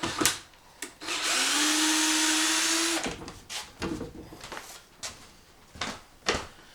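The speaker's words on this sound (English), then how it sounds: "so I'm going to remove my screws." A power drill backs screws out of rough timber, whirring steadily for a couple of seconds after a few sharp knocks, followed by scattered clunks and handling noises close by.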